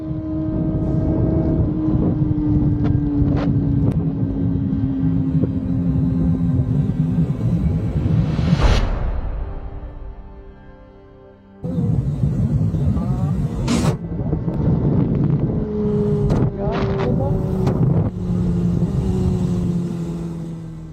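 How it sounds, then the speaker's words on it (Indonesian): A motorcycle ride captured by a helmet-mounted GoPro, with a loud steady engine drone and heavy wind noise, broken by a brief dip before the roar returns at full level. "lagi mengendarai motornya"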